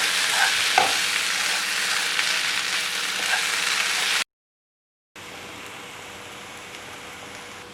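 Kerala-style chicken roast sizzles steadily in a pan on medium heat, a close, even crackle like light rain, then a short silence before a softer, muffled simmer under the lid.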